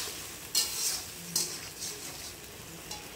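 Spice masala with salt and a little sugar fries in oil for an okra curry, a soft steady sizzle broken by a few sharp scraping strokes of stirring.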